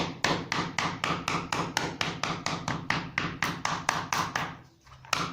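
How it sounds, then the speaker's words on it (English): A hammer strikes leather in shoemaking work, steady rhythmic taps roughly every quarter second, close and loud, with a brief pause before one last blow. "You can even use your hammer"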